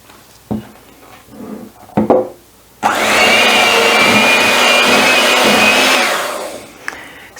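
A blender briefly whizzes a soy milk mixture for a vegan cake, starting abruptly after a few soft kitchen clunks and running at a steady, loud whir for about three seconds before winding down.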